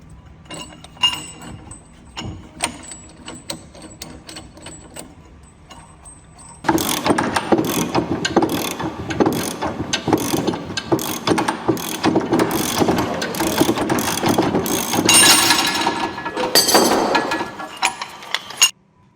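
Nut being tightened on a hub bearing removal kit as the bearing is drawn out, a quiet ticking at first, then a dense run of loud, rapid ratchet clicks and metallic clinks close by.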